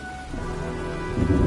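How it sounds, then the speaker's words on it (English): Steady heavy rain with a deep low rumble of thunder building toward the end, loud and close, storm weather in Heavy Rain with no voices. "looks like a storm's coming"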